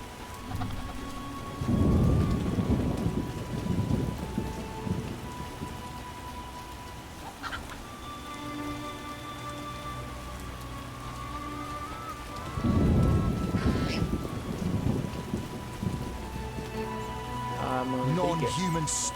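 Steady rain and two heavy rolls of thunder in The Witcher game, with the downpour running throughout and deep rumbles swelling near the start and again past the middle, while voices talk over it.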